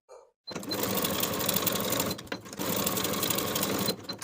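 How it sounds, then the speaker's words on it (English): A sewing machine stitches the shoulder seams of a woven romper. It makes a close, steady mechanical whir in two runs separated by a short pause, with no talking. "Sew the shoulder seams with a 1/2 inch seam allowance and press the seams open."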